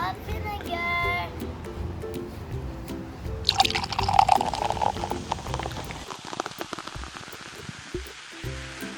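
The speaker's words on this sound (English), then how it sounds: "We need to add half a cup of vinegar." Half a cup of vinegar is poured into a homemade volcano tinted with red food coloring, producing a wet pouring and fizzing burst midway, with voices talking around it.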